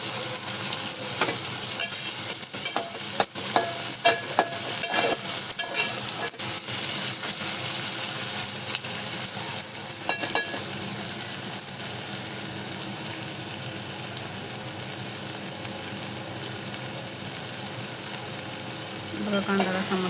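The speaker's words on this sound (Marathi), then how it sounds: "बघा कांदा कसा मस्त आपला ब्राऊन होत आहे आता" Chopped onions frying with salt in a pan while browning, a steady close sizzle with occasional stirring scrapes, for prawn biryani.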